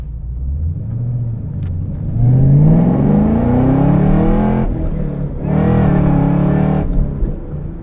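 A supercharged 2013 Chevrolet Camaro ZL1 with a six-speed Tremec manual revs hard twice, the engine note climbing in pitch on each sweep before dropping back to a deep idle rumble.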